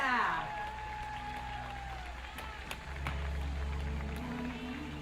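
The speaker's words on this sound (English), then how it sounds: "A big applause with the LOC, the organizer of the Dragon Boat Festival 2018." Applause from a crowd at the closing ceremony of the 2018 Dragon Boat Festival in Florence, Italy, moderately loud scattered clapping over a low hum and room echo.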